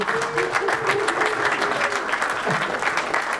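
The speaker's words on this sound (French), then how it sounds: "Je voudrais qu'on l'applaudisse, s'il vous plaît." Applause from the audience at a press conference for a stars night event at an Intersport store, dense steady clapping throughout, fairly loud and continuous.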